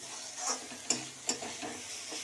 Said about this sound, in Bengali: দিয়ে একটু নাড়তে হবে